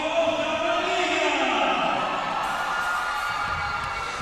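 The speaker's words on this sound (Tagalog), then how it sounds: "listen to the crowd of Kamaligan as they celebrate the win" A large basketball crowd in Camaligan cheering and shouting to celebrate a win in a local cup elimination game, a loud continuous roar of many voices that slowly eases.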